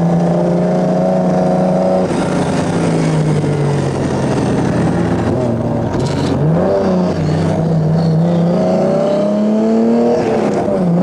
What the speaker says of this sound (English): John Chatham's determined to put his Austin Healey through its paces.